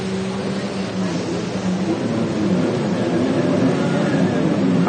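Personal watercraft engines drone at a national championship race, a steady, loud, wide engine roar that fills the whole stretch while people talk underneath.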